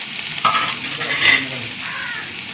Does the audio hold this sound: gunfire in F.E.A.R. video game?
no